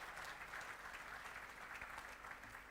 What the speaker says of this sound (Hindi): मैं उनके लिए चाहूँगा ज़ोरदार ताली बजाइए